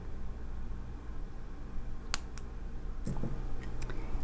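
Small scissors snip beading thread close against finished beaded earrings, a few quiet, crisp clicks scattered irregularly over faint background hum.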